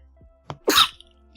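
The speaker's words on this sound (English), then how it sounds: "I just sneezed" A single sharp, close sneeze with a small breathy intake just before it. It is loud and brief against a quiet room, with no talking.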